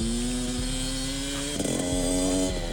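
Steady, loud engine drone from a KTM SX125 two-stroke dirt bike as the rider shifts gears, its pitch holding level, then briefly dipping and wavering mid-way before settling again, close by with no talk over it.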